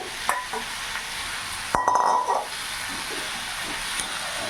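Spices and vegetables sautéing in a pan for a Bengali stalk curry, a steady hiss and sizzle with occasional scraping stirs and one louder burst of spitting steam midway.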